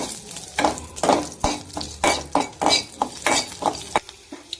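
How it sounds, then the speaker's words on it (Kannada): Black peppercorns and green chillies fry in a pan while a spoon stirs them, giving a low sizzle punctuated by about a dozen distinct scraping strokes in a steady rhythm, close up with no voices. "ಚೆನ್ನಾಗಿ ಫ್ರೈ ಆಗಲಿ ಜಾಸ್ತಿ ರೋಸ್ಟ್ ಆಗೋದೇನು ಬೇಡ ಸುಮ್ಮನೆ ಫ್ರೈ ಆಗಲಿ ಅಷ್ಟೇ"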